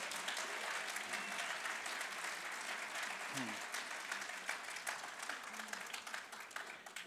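Graduates at a university graduation ceremony clap and stamp their feet, making a dense, continuous roar of applause that holds steady throughout. A few voices can be heard over the clapping.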